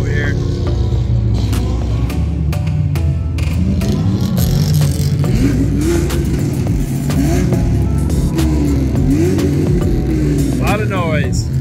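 A Mazda RX-8 sports car engine revs and roars repeatedly nearby, pitch rising and falling, over loud crowd noise and shouting.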